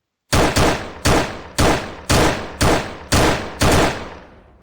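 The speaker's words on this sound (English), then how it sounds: "we should be able to shoot the enemy, and the enemy will also shoot back" Eight evenly spaced gunshots from a shooter video game, with the player and an AI enemy firing at each other, each loud crack decaying quickly and the last fading away.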